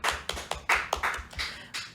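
Someone claps loudly and close by, about nine sharp hand claps in an uneven rhythm over two seconds, standing alone with no talk.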